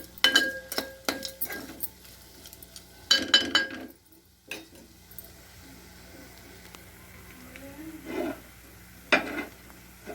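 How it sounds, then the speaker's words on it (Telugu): Prawn curry stirred in a pan after salt and chili are added: a spoon scrapes and clinks against the metal in uneven bursts over a faint sizzle, with quiet gaps between the strokes. "ఉప్పు, కారం వేసి బాగా కొద్దిసేపు కలుపుకొని"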